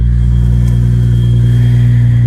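A 1999 Lexus GS300 with a single-turbo engine idles steadily while warming up from cold, a loud, close, continuous low rumble with a constant droning hum and no revving.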